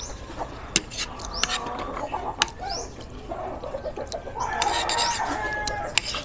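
Chickens cluck steadily and fairly close, with sharp individual calls and rising squawks scattered over the flock's chatter, a rooster crowing in the mix.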